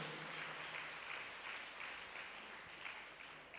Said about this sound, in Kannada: ಒಂದು ಗಟ್ಟಿ ಚಪ್ಪಾಳೆ ತಟ್ಟು ಅವರಿಗೆ ಸ್ವಾಗತಿಸೋಣ